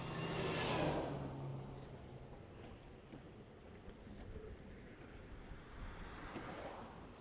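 Engwe Y600 electric scooter climbing a rough hill in gear 3, a steady broadband rush of motor whine and wind noise throughout, with a thin high electric tone running through the middle.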